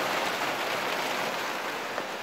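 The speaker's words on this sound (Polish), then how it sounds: "A może wam pokażę jeszcze, jak pada przy okazji." Heavy rain pouring down in a downpour, a dense, loud, steady hiss of drops hitting surfaces with no pauses.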